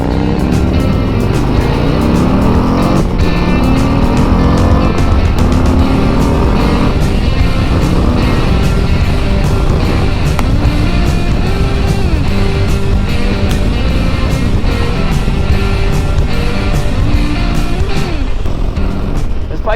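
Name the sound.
Harley-Davidson CVO Road Glide motorcycle engine accelerating on ride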